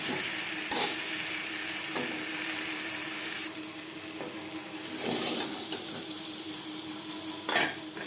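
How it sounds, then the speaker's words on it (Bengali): Boiled potatoes fry in oil in a karahi for an aloo chicken curry, giving a steady close sizzle with a few sharp stirring scrapes spread through the clip and no talking. "আলু ভাজা হয়ে গেছে"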